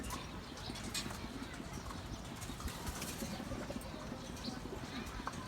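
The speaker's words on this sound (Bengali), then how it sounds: "এই যে আর একটা কবুতর আসছে" Racing pigeons return to a rooftop loft trap, their wings flapping in dense, rapid clatters that keep going throughout, with faint cooing and a voice murmuring in the background.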